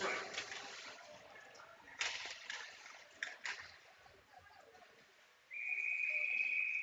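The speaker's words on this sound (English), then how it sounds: "we'll get a whistle" A referee's whistle blows at a junior varsity ice hockey game, a sustained shrill tone near the end after rink noise and commentary.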